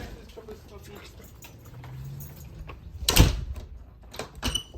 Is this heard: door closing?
yes